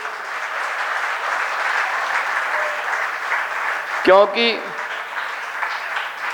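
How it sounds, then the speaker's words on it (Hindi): An audience at a Digambar Jain community gathering in Bhopal claps in a steady, even wash that holds for several seconds, while a voice briefly speaks over it near the end. "उसके लिए हम सब बहुत अच्छे से तालियां बजाएं"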